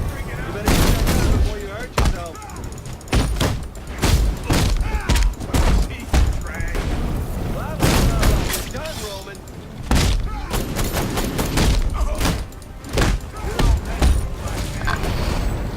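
Rapid bursts of gunfire and bullet impacts ring out in Batman: Arkham Knight during the Red Hood story pack combat, dense and repeated with a mechanical clatter, under someone talking.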